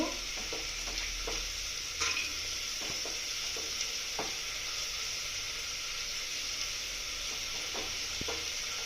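Cashews fry in a pan while being stirred: a steady, bright sizzling hiss runs throughout, with scattered sharp clicks and scrapes from the stirring.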